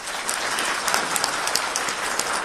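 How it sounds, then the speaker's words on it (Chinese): Warm, steady applause from students and alumni in a university hall in Shanghai, greeting a visiting khenpo, a soft but continuous patter of many hands with no talk over it. "我们以最热烈的掌声"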